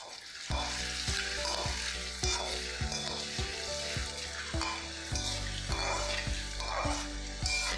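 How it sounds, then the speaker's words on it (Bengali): Potatoes fry in hot oil and ghee in a pan with a steady, close sizzle, punctuated by regular clinks and scrapes of stirring. "আলুটাকে ভেজে নিচ্ছি।"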